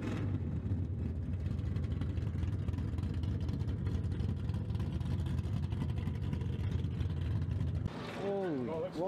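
A 1968 Dodge Charger engine rumbles steadily nearby at a deep, even idle for several seconds, and a voice cuts in briefly near the end.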